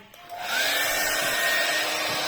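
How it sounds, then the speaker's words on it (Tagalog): A hair dryer switches on and blows steadily with a rising whine, a constant close airy roar lasting the whole time, no voices. "Papatuyuin na natin siya gamit ang hair dryer."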